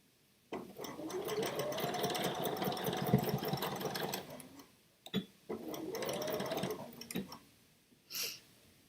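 A home sewing machine stitching fabric during a live sewing session, two steady whirring runs of several seconds each separated by brief pauses and small clicks, fairly quiet and close.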